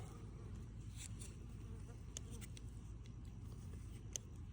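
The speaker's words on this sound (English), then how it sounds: "If you hear buzzing in the background, it's mosquitoes." Mosquitoes buzz faintly in the background of an outdoor yard where a broken sprinkler pipe is being repaired, a steady low hum with occasional brief high ticks and no talk.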